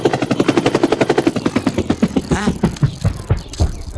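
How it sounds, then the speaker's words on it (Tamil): A helicopter in a Tamil movie scene, a steady rhythmic chop of rotor blades with engine drone, loud and close at first, then broken by other clattering sounds. "ஏதோ ஹெலிகாப்டர் சவுண்டு கேக்குதே."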